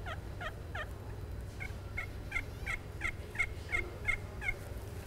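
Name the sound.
turkey call imitating two turkeys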